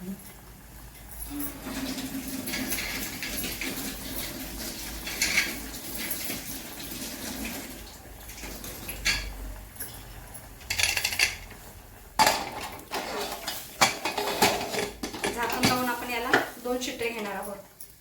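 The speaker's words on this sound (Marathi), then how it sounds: "भात उतू गेलेला आपण धुवून घेऊया" Pots and a pressure cooker being washed under running water after rice boiled over, with metallic clinks, scraping and clattering of utensils and splashing water at close range.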